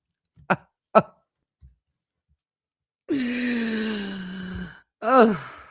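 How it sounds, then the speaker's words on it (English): Two short sharp coughs, then a brief pause, followed by a long drawn-out sigh and a final short vocal exhale, close up. "Cough in the hand."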